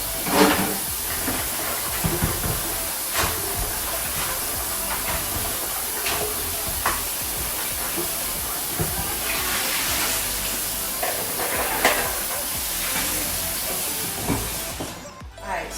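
Seafood rinsed under running water from a tap, a steady close hiss of flowing water with scattered clatters and splashes as the pieces are handled.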